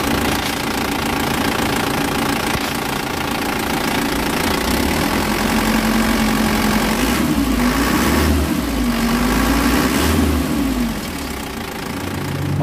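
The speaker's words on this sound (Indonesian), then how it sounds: "untuk mesinnya di sini bisa kalian nilai sendiri" An Isuzu Elf Long truck's diesel engine idles close by, a steady knocking mid-range rumble that holds for over ten seconds, a faint whine rising and falling partway through, with no talking.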